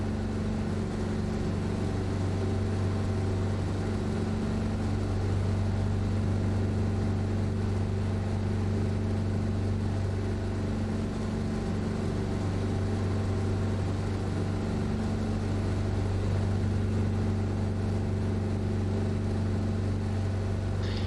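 A Cessna 337 twin-engine aircraft in Microsoft Flight Simulator drones with a steady, loud engine hum and strong low harmonic bands, continuous and unchanging for the full length, with no talking over it.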